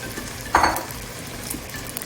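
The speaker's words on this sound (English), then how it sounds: "now I'm going to throw in my noodles" Noodles for Pad See Ew, a Thai soy-sauce street noodle dish, land in a hot pan and are stir-fried: one sharp clatter and sizzle over a steady background hiss, close by, with no talking.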